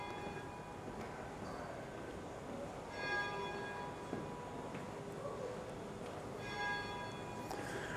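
Church bells in Essen strike six o'clock on a summer Monday evening, two distinct clusters of resonant chimes rising over a constant low city rumble, moderately distant and otherwise without talk.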